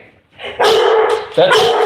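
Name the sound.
dog barking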